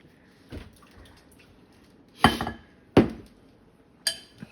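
Buttermilk and egg get mixed in a bowl for cornbread, with a few sharp clinks and clatters of utensil against dish scattered over quiet kitchen background.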